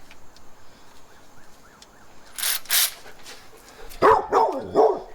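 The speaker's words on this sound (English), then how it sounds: "Did you hear that naughty doggy?" A dog barks in a few quick bursts, fairly close and loud, following some faint whimpering or yipping sounds, with no talking.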